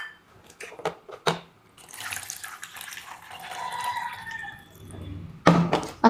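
Water pours into a pressure cooker holding sago for Kerala-style beetroot payasam, a steady splashing stream lasting several seconds between a few sharp clicks and knocks, close and fairly loud with no talking.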